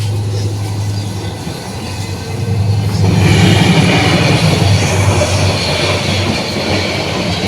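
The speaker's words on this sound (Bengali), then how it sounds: "একটা ট্রেন যাচ্ছে সামনে দিয়ে" A train rolls past the Basail railway level crossing in Narsingdi, a close, loud rumble of wheels and clattering cars that swells after a few seconds and continues steadily.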